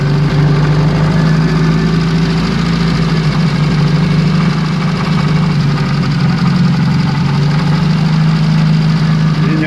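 A car engine idles steadily with a deep, constant hum and a slight knocking roughness, while a generator adds its own continuous drone throughout, loud and close with no talking.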